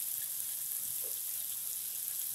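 Turmeric and coriander powder sizzle steadily in a hot pan while an oats masala cooks, a continuous, even frying hiss heard close by but fairly soft.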